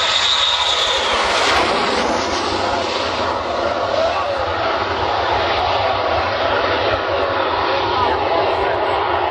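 An F-100 jet aircraft makes a low pass and a touch-and-go landing, a loud, sustained roaring engine rush close by that fills the whole span. Spectators talk excitedly over the noise.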